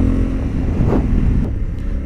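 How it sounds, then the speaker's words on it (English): A 2021 Honda Africa Twin motorcycle on a race track gives a loud, steady exhaust roar, close and continuous through a brief moment with no talking. "I like the sound of the exhaust."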